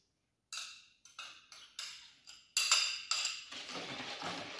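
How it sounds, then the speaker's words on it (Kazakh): A spoon stirs sugar into warm milk for pancake batter, giving a series of close, light clinks and scrapes against the bowl in a steady rhythm that grows busier toward the end, with no voices. "Оған қантымызды араластырамыз."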